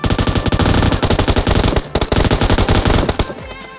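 An M249 light machine gun fires in PUBG Mobile: loud, close automatic bursts of rapid shots with a brief pause between strings.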